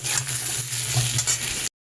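Potato and papaya pieces fry in a pan with a loud, continuous close sizzle and faint stirring, cutting off abruptly.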